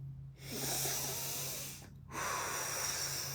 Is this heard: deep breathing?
yes